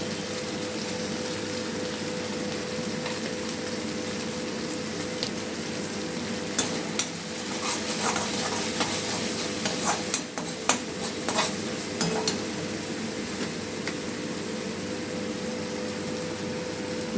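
Turmeric and chilli powders go into a ground masala paste for a winter vegetarian aloo dum, and the mix fries with a constant sizzle while scrapes and taps of a spoon stir it in the pan.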